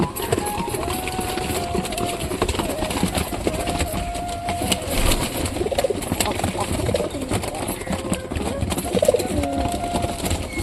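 Pigeons coo softly amid a busy, noisy outdoor background, with people talking and clattering sounds throughout.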